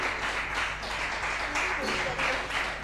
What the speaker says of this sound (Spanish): Presentamos y recibimos con un fuerte aplauso en el Multimedio Sendo a Laurita Cornejo